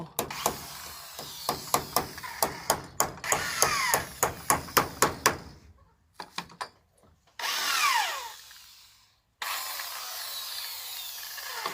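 Repeated short bursts of a power drill boring into a small bamboo rocket, several quick whirs in a row, then a few longer continuous drilling runs, close and loud.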